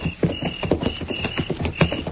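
Horses' hooves clip-clopping as a sound effect in a 1952 Gunsmoke Western radio drama, a quick uneven rhythm of hard knocks at close range with no voices.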